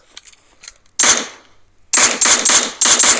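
Gunfire in the mobile game PUBG Mobile Lite: one loud sharp shot, a short pause, then a quick burst of about six snappy shots close up, with no voices over it.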